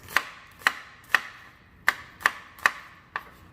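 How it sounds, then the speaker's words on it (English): A knife slices through Vidalia onions on a cutting board for smash burgers, seven crisp, close chops at an uneven, unhurried pace with quiet gaps between strokes. "So we're just going to slice those up."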